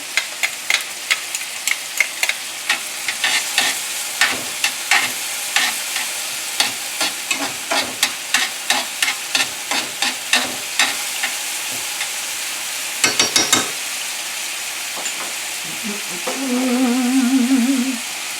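Ground meat and a few cloves of garlic sizzle loudly in a pan for dirty rice, with a spoon scraping and stirring in quick regular strokes before the frying settles into a steady hiss.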